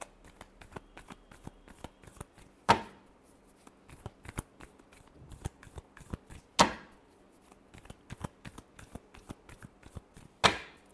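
Tarot cards being shuffled close by, quiet papery riffles punctuated by three sharper snapping slaps spaced a few seconds apart, with no voices.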